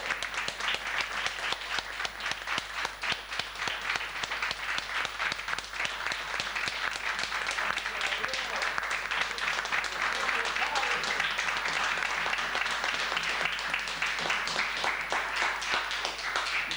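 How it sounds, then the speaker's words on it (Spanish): Long, sustained applause from a congregation in a church Bible class, steady dense clapping throughout with voices faintly mixed in. "vamos a hacer un aplauso grande de alegría porque estamos salvos"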